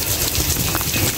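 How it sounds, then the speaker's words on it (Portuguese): Steady rain falls outdoors near a wine shop in Argentina, a loud, dense hiss with faint wind noise, continuous throughout and with no voices. "E a chuva aqui continua."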